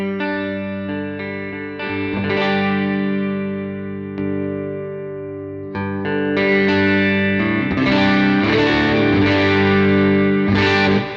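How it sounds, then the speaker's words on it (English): An electric guitar through a JET Pedals Lamb plays a sequence of ringing chords and notes with a clean, shimmering tone, sustained and fairly loud with no talking. "Here's my clean tone."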